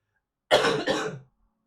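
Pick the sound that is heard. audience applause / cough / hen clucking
cough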